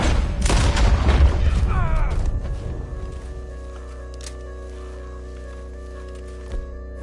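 Gunfire in a PS4 game: a dense volley of loud bursts and booms over the first two seconds, then fading to a quiet hum with one faint later thud.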